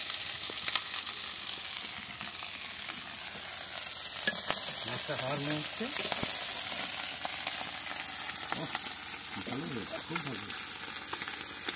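Fish fries in a pan and is stirred now and then, a continuous close sizzle with scraping, while a voice speaks briefly and a few tonal sounds rise behind it.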